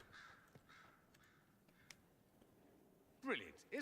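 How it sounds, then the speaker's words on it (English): Crows caw faintly in Dragon Age Inquisition, at Skyhold, a few scattered calls before a person starts talking near the end. "Someone needs to get rid of those crows."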